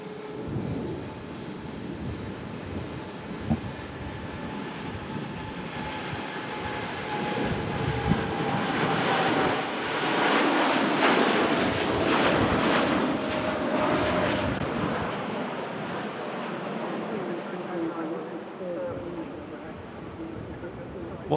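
Boeing 787 Dreamliner departing Manchester Airport for Montego Bay in stormy, windy weather: a distant engine rumble that swells toward the middle and then eases off, with wind noise mixed in.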